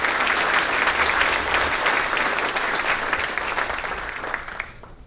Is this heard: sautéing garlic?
no